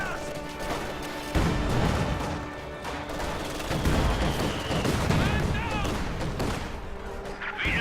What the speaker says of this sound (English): High explosive barrage being fired on those Grenadiers